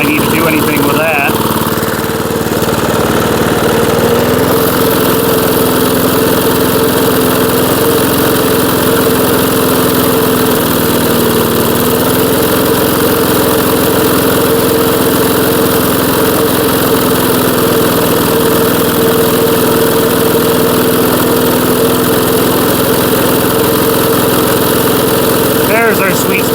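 A 1982 JCPenney lawn mower engine, once discarded, runs continuously up close with a steady idling drone and a slight shift in pitch partway through.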